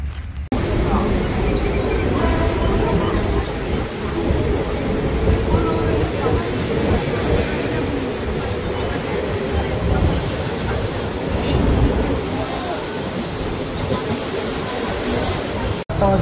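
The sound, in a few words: Borivali slow local train ride in Mumbai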